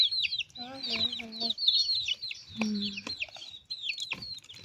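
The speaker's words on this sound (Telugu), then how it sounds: "ఎన్ని కోడి పిల్లలు" Many high, rapid peeping chirps from baby chickens close by, overlapping continuously, with a couple of brief low voiced sounds in between.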